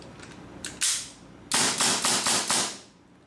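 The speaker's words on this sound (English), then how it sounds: "This will stop the follower move to the top, so you can enjoy the dry fire mode no problem." A WE WE712 airsoft pistol dry fires with its follower held up: a few sharp, close metallic slide clacks, an early pair then four quick evenly spaced snaps, loud and alone.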